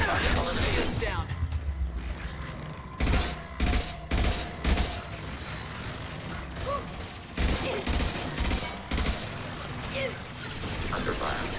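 Gunfire in Mass Effect 2 combat, a series of loud rapid shots in repeated short bursts with mechanical clatter, while voices call out between and over the volleys.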